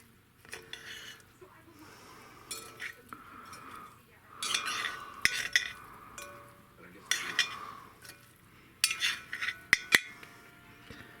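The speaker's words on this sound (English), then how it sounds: "Now go ahead and mix this all up to get that to start melting." Canned macaroni and cheese is stirred into cooked ground beef in a pot until the cheese starts melting, giving scraping utensil clinks and metallic taps in irregular bursts that grow busier toward the end, with some voice in the background.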